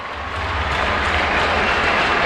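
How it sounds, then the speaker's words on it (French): A crowd at the Herculis 2014 athletics meeting applauds and cheers after a women's triple jump attempt, a broad, sustained roar of clapping with no breaks. "Acclamation du public, hein, bien sûr, forcément."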